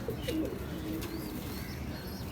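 A Rampuri pigeon gives soft, low coos close by over a steady background hum, with a few faint chirps.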